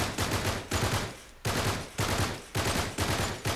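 Rapid bursts of automatic gunfire in the Uncharted 3 video game, four or five loud, close volleys each lasting about half a second to a second, separated by brief gaps, with no voices.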